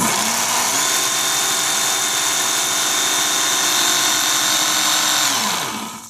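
A WorkSharp Ken Onion knife sharpener grinds a blade in one continuous pass, a loud, steady high-pitched motor whine with abrasive belt hiss that starts abruptly and winds down at the end, with no talk.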